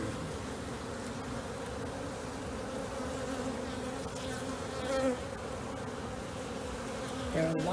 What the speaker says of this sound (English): There are a lot of drones in this hive.